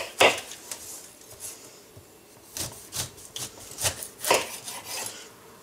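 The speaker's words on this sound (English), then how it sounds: "For the pineapple, start by cutting the top and the bottom off." A knife cuts through the top and bottom of a pineapple on a board, making a few sharp rasping, crunching strokes with short pauses between them, close and fairly loud.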